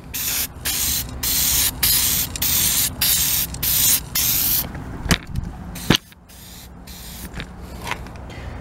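A spray paint can lays a light coat on a van's wheel well, with repeated close hissing bursts of about half a second each, followed by a few sharp knocks and quieter rustling.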